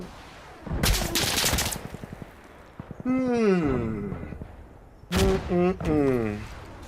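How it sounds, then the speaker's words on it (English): Smoke rounds fired in Insurgency Sandstorm, a loud booming launch followed by rapid rattling shots, while someone talks over the firing in the middle and again near the end. "Firing smoke rounds."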